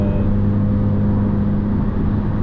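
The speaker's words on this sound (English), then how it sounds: "here's a riding experience in a catless Veloster on the highway" Catless Hyundai Veloster Turbo cruising on a highway, heard from inside. A steady, loud drone of engine and exhaust blends with road and wind roar, holding even with no talking.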